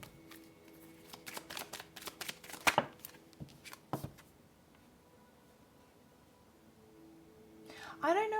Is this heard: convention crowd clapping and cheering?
no